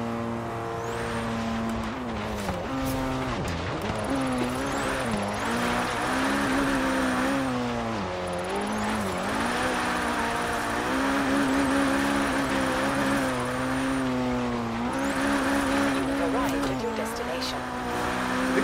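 A red Abarth Fiat 131 rally car in Forza Horizon 3 drifts with oversteer in fourth gear, its engine note rising and falling through revs and shifts, with faint tyre squeal and a voice talking underneath.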